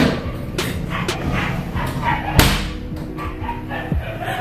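A dog barks in a few sharp bursts in Kigali, Rwanda, set against busy, noisy outdoor background sound.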